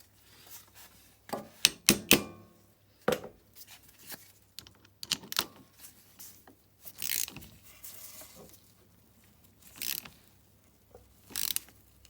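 Ratcheting and metallic clicks from tightening parts on the gear selector of a 110cc ATV, arriving in irregular bursts of sharp close clacks separated by quieter gaps.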